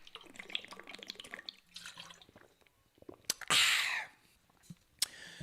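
A crinkly plastic bottle of alkaline water being drunk from and squeezed, with faint sips and drips, then a loud crackling burst of crumpling plastic and sharp clicks, close to the microphone with quiet voices around it.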